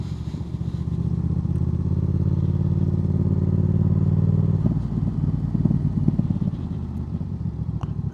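Motorcycle engine on the Antrim coast road, rider feathering the throttle through a tight downhill off-camber bend: a steady loud drone that eases and pulses slightly, near, with wind rush and no talk.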